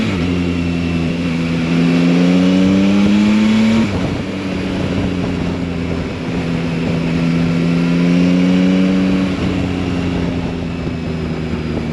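Yamaha Tracer 9 GT motorcycle riding along a road, its engine note droning steadily and loudly with rising and falling pitch as the throttle shifts, wind rush filling the background.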